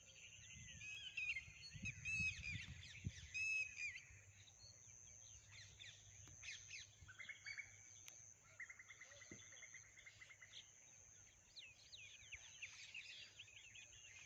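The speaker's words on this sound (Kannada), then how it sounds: "ಅಲ್ಲಿ ನೋಡಿ ಗಿಳಿಗಳ ಸೌಂಡ್ ಹೆಂಗೆ ಮಾಡ್ತದ." A flock of parrots in a village calls from a distance, with clusters of squawks and chirps over a constant high insect-like drone and a low rumble early on.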